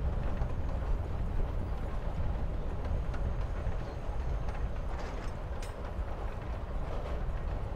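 Steady rumbling train ride in the Life Is Strange: Before the Storm video game, a continuous low rolling roar with faint rhythmic clatter, even and close throughout with no talking.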